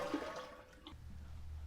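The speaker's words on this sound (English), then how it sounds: "Then you're going to flush to allow all the water to drain out of the back of the tank." A household toilet is flushed so the water drains out of the back tank, giving a short rushing, gurgling wash that settles into a steady low drain, fairly close and alone.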